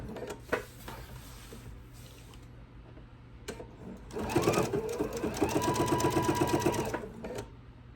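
A sewing machine stitching an apron edge gives a steady rhythmic whir for about three seconds after earlier quiet handling noises and brief clicks.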